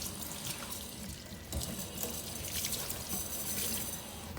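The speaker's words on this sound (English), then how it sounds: "And rinse them really well." Water from a sink tap running steadily over gloved hands being rinsed, a soft continuous splash and trickle close by with no talking.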